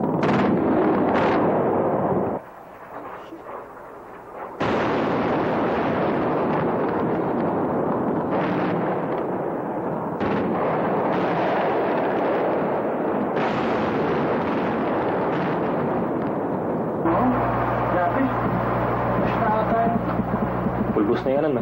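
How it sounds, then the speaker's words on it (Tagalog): Anti-aircraft gunfire and explosions in Baghdad: loud, sustained booming and rumbling blasts come in repeated waves, with short gaps between them and a rough steady roar near the end, heard close with no voices over it. "katabi naming anti-aircraft nakikipagduelo sa eroplano."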